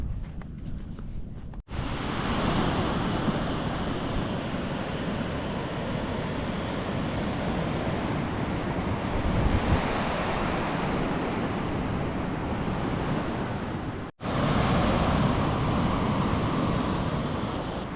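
Ocean waves break on a beach in central Baja, a steady loud roar of surf and wind-like wash that holds throughout with two brief dropouts.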